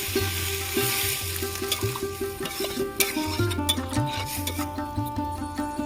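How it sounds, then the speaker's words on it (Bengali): Potatoes cook in gravy in a pan, giving a steady close sizzle and frying hiss with scraping and rubbing as water goes in, over a low background hum. "আলু আমি গ্রেভির মধ্যে দিয়ে ভালো করে কষিয়ে দিয়েছি এবার জল দিয়ে দেবো"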